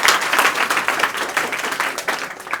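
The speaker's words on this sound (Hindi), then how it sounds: "इस बात के लिए एक बार जोरदार तालियां होना चाहिए।" An audience at a coaching class event in Bihar claps in a dense, steady burst of applause throughout, fairly close and without talk over it.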